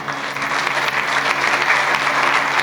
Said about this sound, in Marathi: अरे वा, जोरात टाळ्या वाजल्या